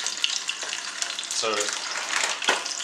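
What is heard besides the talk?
meat frying skin side down in a pan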